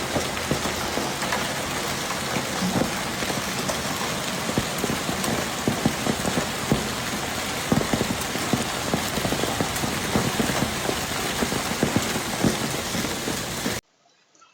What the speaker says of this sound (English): large hailstones rained down on their area at high speed